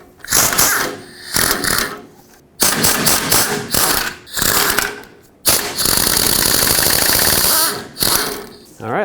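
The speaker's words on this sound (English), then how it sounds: "From underneath you can see the four 13 millimeter bolts that we have to remove." Ratchet wrench clicking rapidly while removing 13 mm oil pan bolts underneath a 1997–2003 Ford F-150 with a 5.4L engine, loud close bursts separated by short pauses.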